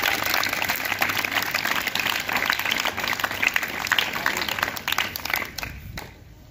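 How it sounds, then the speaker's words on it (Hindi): Schoolchildren at a Saraswati Children Academy quiz session applaud together, a steady patter of many small hands clapping through most of the stretch before tapering off near the end. "इनके लिए आप लोग तालियां बजाइए"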